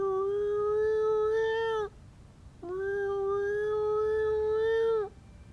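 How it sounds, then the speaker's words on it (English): Abandon ship alarm in the naval video game War on the Sea, two long wailing tonal blasts separated by a short gap, loud and harmonic, with a whining, almost cat-like quality. "Not sure if that sounds more like an abandoned ship alarm or a dying cat."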